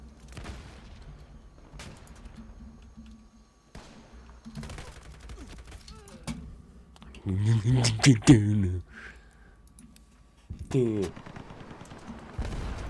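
Gunfire in Iron Sight, a first-person shooter game on PC, in a competitive island deathmatch: a few scattered shots, then a loud dense burst of rapid fire midway and another burst later, with faint talk between.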